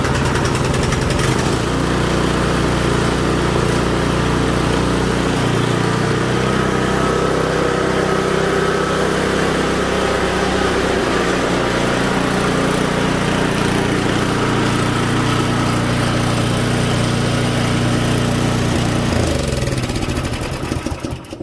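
A snowblower engine runs after a carburetor repair, a loud, close, steady small-engine drone held for about twenty seconds before it begins to cut out at the very end.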